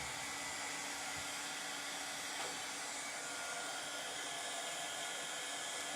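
A hair dryer blows steadily to dry a craft project, giving a constant airy roar close by with no voices.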